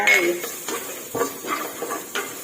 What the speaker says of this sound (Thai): ผัดกระเทียมให้เหลืองหอมค่ะ